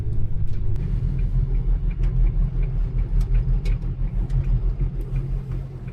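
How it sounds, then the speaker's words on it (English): Off-road tyres on a vehicle driving on a road in Borneo, a heavy low rumble with a steady pulsing purr under the engine noise, heard from inside the cabin without talk. "You can hear the off-road tyres kind of making this purring noise"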